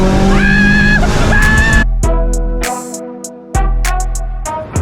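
A turbocharged Subaru BRZ making over 500 horsepower, its engine revving hard with rising pitch, then a series of abrupt cuts and sharp bursts as the throttle snaps, loud and close.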